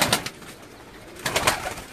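Pigeons on a rooftop in Gujrat give two bursts of soft, throaty cooing, one at the start and another near the end, with a quieter stretch between them.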